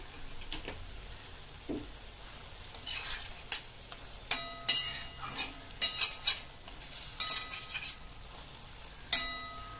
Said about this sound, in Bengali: হাফ চামচ সর্ষের তেল দিচ্ছি।